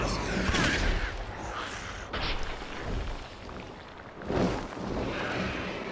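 Gunfire in the video game Clive Barker's Jericho: dense bursts of shots and booming blasts, loud and close, with a heavy volley near the start and another surge around two-thirds through.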